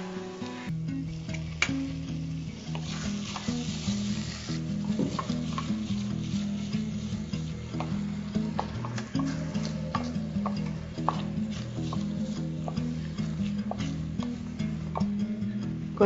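Thick tomato jam bubbles and simmers steadily in a pan, with a spoon scraping and stirring through it in a continuous, close-up churn.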